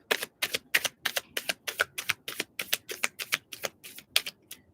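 Tarot cards being flipped in a rapid, even series of about fourteen sharp, close, crisp slaps, with no one talking.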